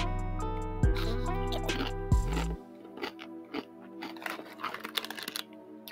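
Mini ranch Doritos chips crunch close to the microphone in a run of crisp, irregular bites and chews over steady low background noise. The crunching is loudest early and turns into lighter, quicker crackles toward the end.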